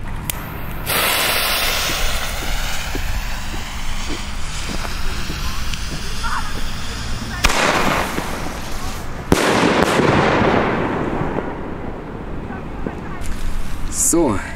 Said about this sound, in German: So, jetzt das zweite Pech- und Schwefelbombenrohr.